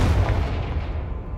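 A Confringo spell blast cast in Hogwarts Legacy on PS5, heard as a loud booming burst with heavy low rumble that fades gradually over a second and a half, with no voices.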